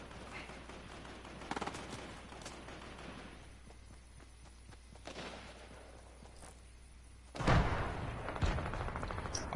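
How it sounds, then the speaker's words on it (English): Gunshots sound in an online shooter video game, scattered distant cracks early on, then a louder close burst of fire near the end. "Shots to my right."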